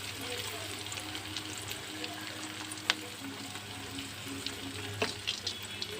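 Breaded cutlets fry in hot oil over moderate heat, a steady close sizzle with soft bubbling and occasional sharp pops and utensil clicks throughout.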